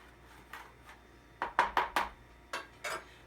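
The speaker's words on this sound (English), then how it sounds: "You mix the borax until it's completely dissolved." A utensil knocks and scrapes against a container while borax is stirred into hot water, a few scattered soft clinks building to a quick run of four louder taps, then two more, with no voices.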